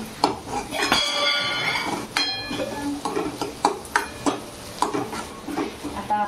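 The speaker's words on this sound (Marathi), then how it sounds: "व्यवस्थित ते हलवायचं हळूहळू बारीक गॅसवर." A spoon stirs a kadhi tempering with curry leaves in a pan on a low gas flame. The spoon scrapes and clinks against the metal in an uneven rhythm over a soft sizzle, close and moderately loud, with no talking.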